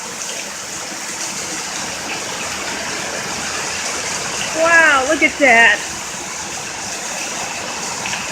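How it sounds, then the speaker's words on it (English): During pouring heavy rain in Middleport, Ohio, a waterfall rushes with a steady broadband roar, and a person briefly talks over it partway through. "That is a waterfall right there."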